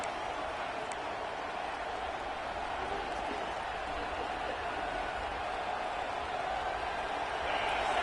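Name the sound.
stadium crowd cheering in NCAA 26 football video game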